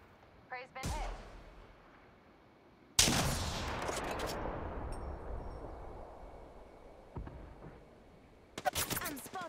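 Gunfire in Apex Legends comes in sharp bursts, first a short volley, then a loud sustained barrage, then a closing cluster of rapid shots, with a voice speaking between the bursts.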